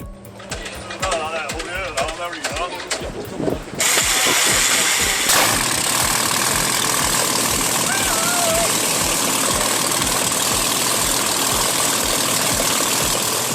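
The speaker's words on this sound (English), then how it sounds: "When the Meteor fires up, it's not just an engine start." A vintage Rolls-Royce Meteor engine cranks briefly with voices nearby, then fires up at about four seconds into a loud, sustained, rough roar that holds steady to the end.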